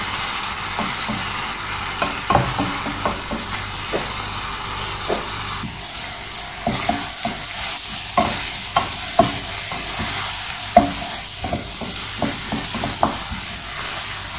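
Mushrooms frying in a pan with a little water, a steady sizzle under repeated scraping stirs and spoon knocks at an uneven rhythm, close and moderately loud.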